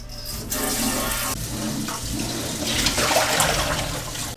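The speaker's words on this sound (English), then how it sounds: "let's go ahead and rinse this little tank out" Water splashes and rushes steadily while a small freshwater aquarium tank is rinsed out, a close, continuous wash of running water with a slight swell in the middle and no talking.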